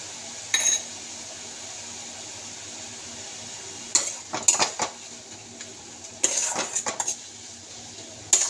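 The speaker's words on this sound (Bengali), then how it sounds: "মশলাটা কষা হচ্ছে" Spoon clinks and scrapes against a pan while spice masala is stir-fried, coming in short irregular bursts over a faint steady background, with no talking.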